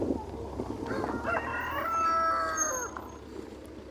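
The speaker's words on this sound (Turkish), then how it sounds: "Tavuk pazarına geldik." Roosters crow at a busy outdoor chicken market, one clear drawn-out cock-a-doodle-doo rising over a constant murmur of clucking birds and crowd noise.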